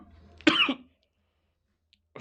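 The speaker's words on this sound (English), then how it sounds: "I still got a cough" A single sharp cough, close and fairly loud, followed by near silence and a faint trailing noise.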